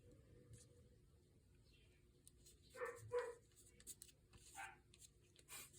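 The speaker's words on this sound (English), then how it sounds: "our little dogs are barking" Small dogs bark in a home, a few short bursts fairly close but not loud, with a puppy's higher yaps among the deeper barks and quiet gaps between them.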